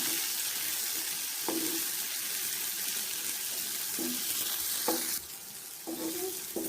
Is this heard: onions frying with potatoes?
yes